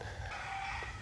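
A rooster crows once on the grounds of a Thai temple surrounded by trees in Kut Rang, Maha Sarakham, a faint, somewhat distant call against low background noise.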